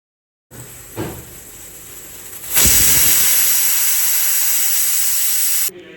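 A pressure cooker holding coconut vegetable green rice lets out steam: a soft clunk, then a loud, steady, close hiss lasting about three seconds before it cuts off.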